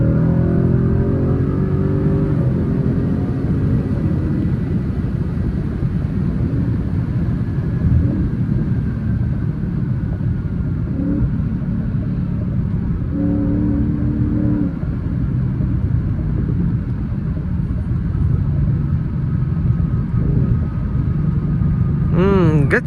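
A Ford Mustang GT V8 accelerating hard through city streets at night, its engine rumbling and rising in pitch through several gear pulls, heard from inside the car.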